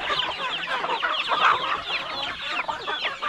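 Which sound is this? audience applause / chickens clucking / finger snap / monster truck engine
chickens clucking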